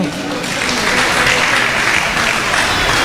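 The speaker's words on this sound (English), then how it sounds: "So give him a round of applause." Steady applause from a crowd at an Indian Arrival Day celebration at a mall in Tobago, dense clapping that stays loud and even throughout.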